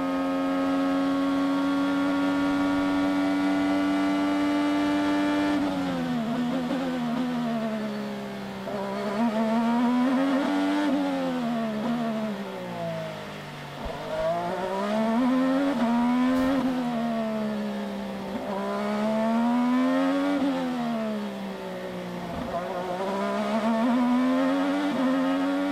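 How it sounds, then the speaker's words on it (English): Honda-powered IndyCar engine heard from the onboard nose camera on the Long Beach street circuit, a loud continuous whine that rises and falls with repeated gear changes, braking and acceleration through the corners, with no talk. "let's go for a ride with Sebastian Bourdais in the nose cam"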